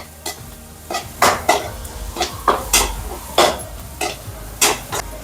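Tomatoes, finely chopped, frying in a pan while a spoon scrapes and stirs them, giving a run of close, rhythmic clinks and scrapes over a soft sizzle.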